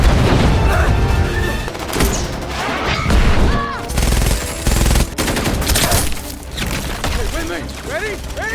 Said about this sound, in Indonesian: Neytiri membunuh beberapa tim Quaritch sebelum mereka melepaskan tembakan